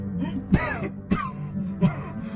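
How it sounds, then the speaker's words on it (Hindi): Three harsh coughs, close and fairly loud, spaced about half a second apart. "तभी उसे जोर से खांसी होने लगी।"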